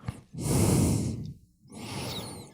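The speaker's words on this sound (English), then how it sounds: "this is what breathing sounds like" Two close breaths, a long airy exhale followed by a short pause and a softer second breath, loud and intimate with no speech.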